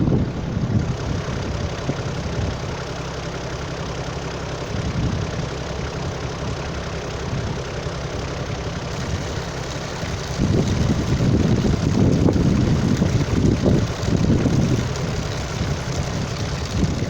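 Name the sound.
jet pipe pump running while backfilling a waterline trench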